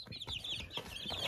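Young chicks in a warm box peep with rapid, high chirps that overlap continuously, quiet and close, with no talking.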